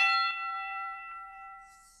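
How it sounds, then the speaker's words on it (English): A single bell strikes once with a clear ringing tone, its harmonics sustaining and slowly fading over about two seconds, with no talk. "Every time the bell rings,"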